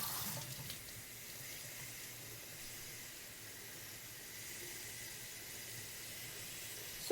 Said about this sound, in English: So 3 times a day I fill the jar.